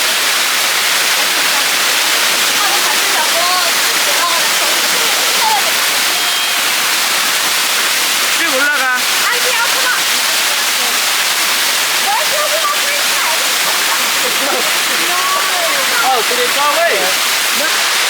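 Buatong waterfall, a cascade that people climb, gives a loud, constant roar of rushing water that fills the whole stretch, with faint voices and occasional splashes mixed in.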